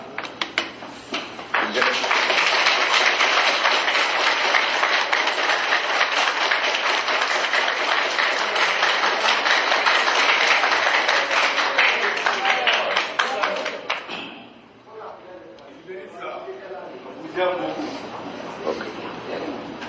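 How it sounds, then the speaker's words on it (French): An audience at the inauguration ceremony of a new prefecture in Siguiri applauds loudly and steadily for several seconds, then the clapping fades to scattered claps and murmurs. "merci pour les applaudissements"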